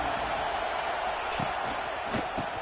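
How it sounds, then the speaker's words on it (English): Stadium crowd noise from an NCAA football video game, a dense, steady roar of a large crowd with a few soft thuds, with no clear speech. "Listen to the crowd energy here in the early going."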